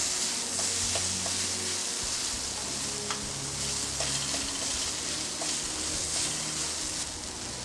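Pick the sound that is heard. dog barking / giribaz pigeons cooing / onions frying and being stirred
onions frying and being stirred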